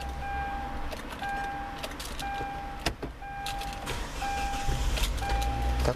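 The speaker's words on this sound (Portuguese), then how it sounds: "Vou ligar o carro aqui para vocês." Inside a 2011 Hyundai i30 GLS 2.0 16v automatic, a dashboard chime beeps in a steady repeating pattern, then the engine cranks and settles into a low idle near the end.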